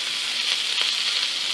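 Sausage and hash browns frying in a cast iron pan just above medium heat, a steady close bright sizzle that holds evenly throughout without talking.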